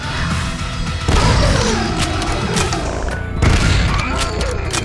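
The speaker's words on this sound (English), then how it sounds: "You can quite literally fire the super shotgun and the regular shotgun at the same time." A super shotgun and a regular shotgun fired together in the retro shooter Dread Templar, giving heavy booming blasts, two main hits spaced a couple of seconds apart over continuous loud game noise.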